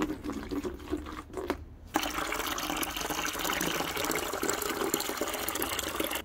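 Water poured into a plastic bucket holding chemical brick cleaner, a steady gushing fill that swells after a brief pause and runs on continuously at moderate level.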